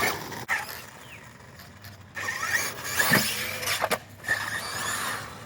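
An Arrma Typhon RC car runs across gravel, its electric motor whining and its chassis creaking and rattling in uneven surges, with a few sharp clicks and crunches close to the microphone and no talking.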